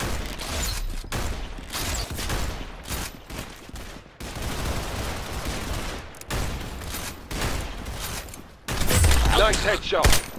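Rapid sniper rifle fire in a video game, loud cracking shots and bursts layered over dense game effects, with players talking over the action throughout.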